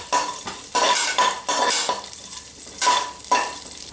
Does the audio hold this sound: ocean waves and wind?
no